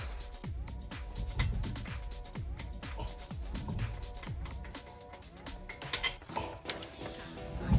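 A ratchet wrench or spanner clicks in repeated quick strokes while a rear wheel is taken off a Vauxhall Insignia, with pawl ticks and metallic scraping near the mic; it is moderately quiet and nobody speaks.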